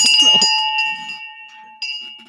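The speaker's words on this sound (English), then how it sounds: "I'm just going to grab this bell and ring it" A hand bell rung once to close a podcast recording gives a sharp, clear strike and a long, steady ringing tone that slowly fades, with a faint extra clang near the end.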